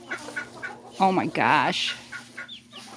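Black and white baby Silkie chickens cluck and peep close by, a few short calls and then two longer, wavering cries in the middle, while a person briefly speaks.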